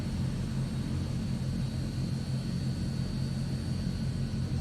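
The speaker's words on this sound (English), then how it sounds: "Tiny bit of power is all it needs, and the plane is going to start moving." A Transall transport aircraft starts to taxi in a flight simulator game. Its engines give a steady, loud drone with a low rumble and a thin high whine, unbroken and with no voices.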